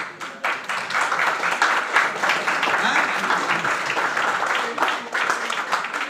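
A seated audience claps along together during a lively group activity, dense continuous applause for about six seconds with a steady pulsing rhythm, fairly loud and close, with some voices mixed in.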